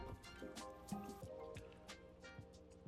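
Double Oak bourbon glugs and trickles from a barrel into a glass, a faint liquid pour with soft drips.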